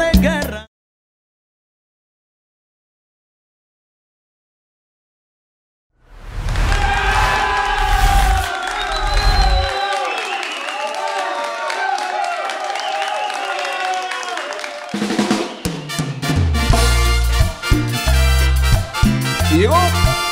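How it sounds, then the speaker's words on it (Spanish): At a live tropical music show, a crowd shouts a sustained war cry and cheers after a moment of silence, a loud mass of voices that gives way to the band's music. "Se escucha el grito de guerra."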